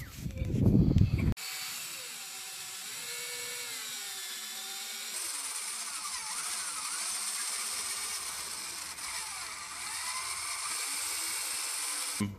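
A power tool drives six-inch carriage bolts through a budget RV frame, a steady high whine that begins after a short thud and runs continuously with slight pitch changes, close and alone.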